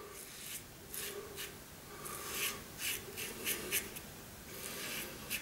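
Close, scratchy rasping strokes of a safety razor blade cutting whiskers repeat in short bursts against faint background hiss.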